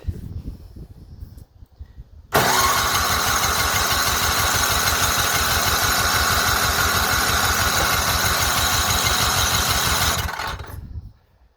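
A small 3 horsepower engine on a bicycle push trailer starts abruptly after a quiet moment, then runs close and loud at a steady, throbbing idle for about eight seconds before cutting out and fading.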